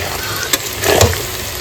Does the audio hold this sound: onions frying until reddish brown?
yes